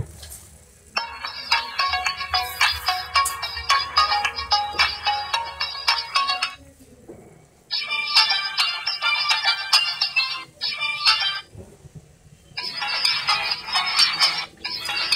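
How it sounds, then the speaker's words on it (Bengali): An Axion A2500 keypad mobile phone plays its ringtone in three loud bright bursts separated by short pauses, each a busy repeating electronic melody heard alone. "চলুন আমরা দেখি ফোনটির রিংটোন সাউন্ড কেমন ছিল"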